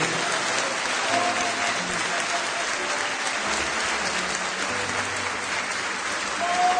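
A church congregation applauds: dense, sustained clapping from many hands fills the space at an even volume from start to finish.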